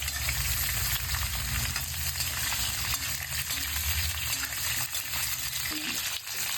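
Fennel, nigella seeds and red chili fry in hot oil for a raw mango and jaggery dish, making a steady close sizzle with a few stirring knocks, continuous throughout.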